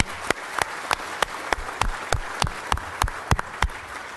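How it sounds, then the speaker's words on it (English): Audience at a city council meeting clapping in response to a request for a round of applause, with sharp, slightly uneven hand claps ringing out steadily and close over a few seconds. "And how about a round of applause?"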